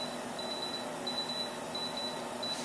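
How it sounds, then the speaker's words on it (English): A Parkzone radio transmitter powering on gives a series of short, thin electronic beeps in an irregular rhythm over a steady hiss, close and clear with no voices. "It'll beep a little bit,"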